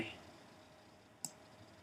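A single computer mouse click during texture painting work, one short sharp tick partway through, faint and close against a quiet background hum.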